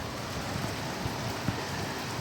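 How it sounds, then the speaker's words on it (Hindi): Heavy rain pours down steadily on a farm during a hailstorm, a dense, even hiss close by with a few louder drops spattering on a surface, no voices. "कुछ इस तरह से झमाझम बारिश लगी है यहाँ पे।"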